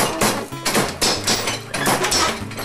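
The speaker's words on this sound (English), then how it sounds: "I use a tool called the broom pounder to tighten the wire as I turn the handle" Repeated knocks of a broom pounder striking to tighten wire around broom corn on a child's broom handle, a steady series of close, firm wooden thumps, roughly two per second, with no talk.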